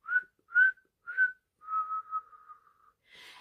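A single person whistles a light language phrase, three short rising notes followed by one long, held tone, clear and close in a quiet room.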